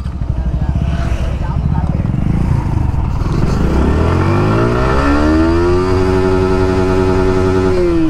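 A Yamaha R15 motorcycle pulls hard in first gear on a top-speed run, its engine note climbing steadily in pitch and loudness before holding at a high, strained whine, with wind rush throughout.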